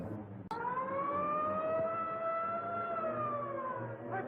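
Ambulance siren starting abruptly after a sharp click, a loud sustained wailing tone that slowly rises and falls, heard alone.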